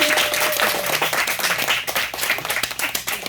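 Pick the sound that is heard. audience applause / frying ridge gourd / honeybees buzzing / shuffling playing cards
audience applause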